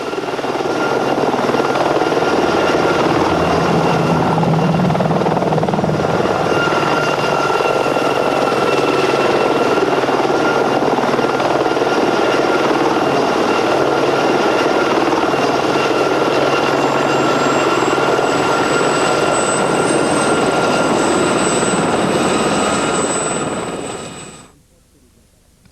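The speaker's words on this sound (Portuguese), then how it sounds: "o AH-64 Apache é o helicóptero de ataque mais moderno e versátil do mundo" An AH-64 Apache attack helicopter flies close by, its loud steady rotor and engine roar holding for about 25 seconds with a high turbine whine rising near the end before it cuts off abruptly.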